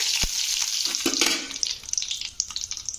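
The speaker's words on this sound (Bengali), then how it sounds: "কালো জিরাটা একটু হালকা ভাজা ভাজা হয়ে গেছে" Black cumin seeds frying in hot oil for a bottle-gourd-leaf paste: a close, steady hiss of sizzling with scattered crackles and a few brief knocks and stirring clatters.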